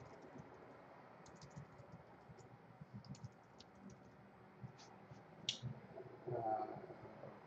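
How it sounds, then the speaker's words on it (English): Faint, sparse key clicks as someone types account details on a Mac computer keyboard, soft irregular taps in a quiet room with no talking. "So I'll go ahead and type that information in here."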